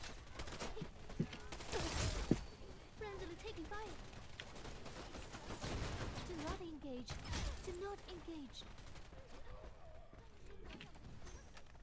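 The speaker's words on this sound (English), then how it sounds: "I gotta change the recoil on this gun." Gunfire from a gun with heavy recoil in the PvP video game Wild Assault: a few faint, scattered shots heard at a distance under a voice and quiet background game noise.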